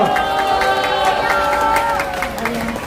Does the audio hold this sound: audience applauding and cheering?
yes